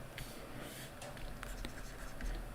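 Pen or marker writing a calculus limit proof by hand on a board or paper, steady faint scratching strokes with short pauses, quiet and close with no talk.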